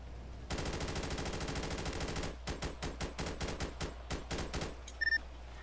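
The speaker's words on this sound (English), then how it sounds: "Automatic gunfire." Automatic gunfire in GTA V, a long rapid burst of close, loud shots followed by a slower run of separate rattling bursts, then a few faint clicks and a brief beep near the end, no talking.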